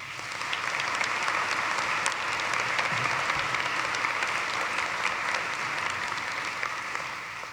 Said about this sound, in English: Let's give the staff a round of applause.